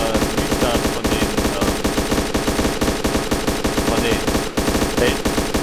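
Rapid automatic gunfire from a PvP deathmatch in the video game Fallujah, a dense, continuous burst of loud shots in steady quick rhythm across the whole stretch, with no clear voices.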